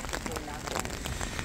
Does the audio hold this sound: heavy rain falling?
yes